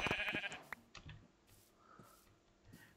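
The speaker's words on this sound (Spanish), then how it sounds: "Oveja" A Minecraft sheep gives a single clear bleat right at the start, then fades into quiet, sparse in-game ticks and soft background sounds.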